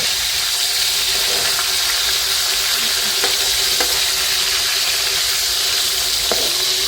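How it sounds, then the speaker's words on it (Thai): Fermented fish (pla ra) frying in hot oil in a pot, a loud steady sizzle and crackle throughout with occasional clinks, close and without talk. "เขาใส่น้ำมันให้เดือดก่อนเขาจังเอาปลาลง"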